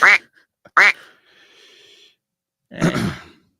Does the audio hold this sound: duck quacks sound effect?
yes